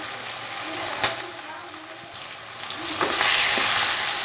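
Mutton liver frying with spices in a pan, a steady close sizzle with a couple of sharp spitting pops, growing louder toward the end.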